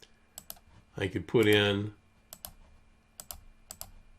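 Taps on a tablet's on-screen digital keyboard come as light, sparse clicks spaced through the moment, with a brief spoken phrase in the middle.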